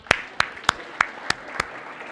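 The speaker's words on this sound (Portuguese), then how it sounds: "Vou dar uma salva de palmas para ele" Six slow, separate hand claps in an even rhythm, close and fairly soft over a quiet lecture-hall background, given for a speaker at a talk.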